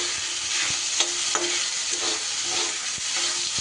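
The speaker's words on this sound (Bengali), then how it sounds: "পটলের দানার অংশগুলো একটু তেলের মধ্যে আগে নাড়াচাড়া করে নেব।" Pointed gourd seeds stirred in hot oil in a pan, with a continuous close sizzle and crackle broken by a few soft scraping and tapping strokes.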